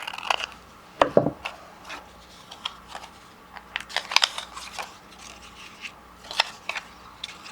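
Scissors snip through folded paper while making a paper firebird craft: a few sharp, quiet cuts and rustles at irregular intervals in a hushed room.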